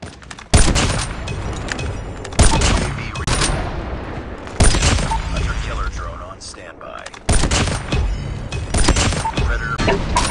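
Sniper rifle fire in a 3v3 Call of Duty Mobile match on the Shipment map: four loud, sharp shots spaced a couple of seconds apart, each followed by a ringing tail over continuous game background noise.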